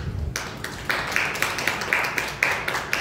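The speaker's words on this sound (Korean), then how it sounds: "이 박수로 감사하고" Clapping at a church service as thanks for a birthday treat, beginning abruptly after a brief voice and continuing as a sparse, fairly close patter of a modest group's claps in uneven bursts.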